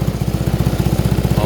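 A Kymco Super 8 150 motorcycle engine idles close by after repair, its rapid, steady low putter running unbroken throughout.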